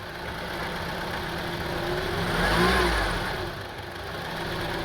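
Honda CR-V engine, with a rough idle fault, running steadily, then swelling in a single rev around the middle as the gas is pressed before easing back to idle; a continuous mid-pitched hum close up, no talking.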